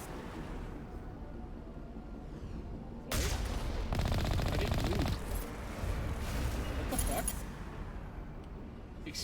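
Turrets fire in the sci-fi video game Mass Effect, a dense crackling volley that bursts in partway through and continues in waves over steady background game noise, with a voice talking at times.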